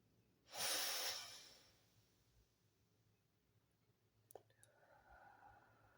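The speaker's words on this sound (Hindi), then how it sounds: "आप अपनी नाक से साँस लीजिए और मुँह से धीरे-धीरे साँस छोड़िए।" A single slow, soft breath drawn in through the nose and let out through the mouth, close and quiet, followed by a few faint clicks in a calm, still room.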